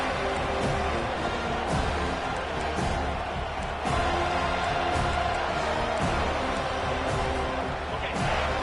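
Stadium crowd noise in a college football video game during a Clemson at FSU matchup: a dense, steady roar of cheering that holds at a loud level throughout with no break.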